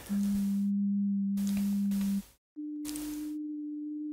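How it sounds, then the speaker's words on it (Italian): Two pure steady tones, isolated harmonics of a human voice, one lower then a slightly higher one, each held about two seconds with a brief gap between, joined by faint breathy noise bursts. "ora sentiamo solo qualche armonico dei tanti che compongono la voce."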